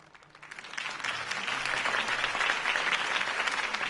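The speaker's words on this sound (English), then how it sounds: "could have heard that applause" Applause from an audience after a campaign speech, building fast from quiet into a dense, steady clapping that holds loud to the end.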